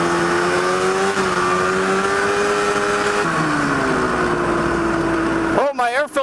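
Snowmobile-engine-swapped go-kart accelerating hard, a loud, steady high-pitched engine drone that climbs and shifts in pitch before cutting off into brief wind buffeting at the end.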